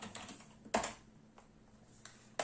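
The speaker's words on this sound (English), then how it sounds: "So if we type in the word star" A computer keyboard is typed on softly and sparsely, a few distinct key clicks spaced out with one louder tap, close by in a quiet room.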